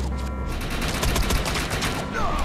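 Rapid bursts of automatic gunfire in the video game Defiance 2050, loud and dense, cracking in quick succession throughout.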